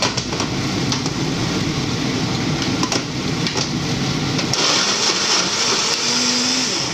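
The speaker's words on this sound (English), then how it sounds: "Put the bread in the blender." A kitchen blender whirs steadily as it blends bread into crumbs, a loud continuous motor drone holding for several seconds with a slight shift in pitch partway through.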